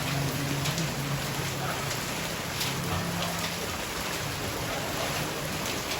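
Heavy night rain pours down steadily in a dense, unbroken hiss, flooding the road, with faint voices murmuring beneath the downpour.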